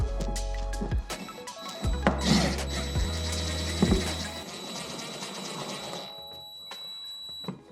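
T25 screws being driven into a Ski-Doo Gen 5 snowmobile side panel, a close series of mechanical ratcheting and clicking with a few sharp knocks, followed by a lingering metallic ring that fades out.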